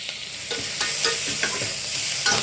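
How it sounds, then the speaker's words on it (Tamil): Onions sautéing in a pan for a Tamil-style baby corn gravy, giving a steady close sizzle with soft stirring scrapes, alone with no talk. "வெங்காயம் வந்து நல்லா வதங்கி வரணும்."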